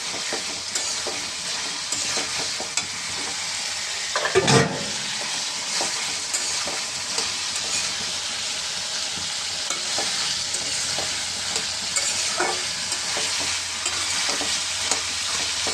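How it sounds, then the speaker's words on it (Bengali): Vegetables with new potatoes sauté over high heat in a pan, a steady close sizzle with repeated scraping strokes of a spoon stirring through them, one louder knock partway through. "আমি একটু আঁচটা বাড়িয়ে দেবো, হাই আছে। সবজিটা কষিয়ে তারপরে মোচাটা দিয়ে দেবো।"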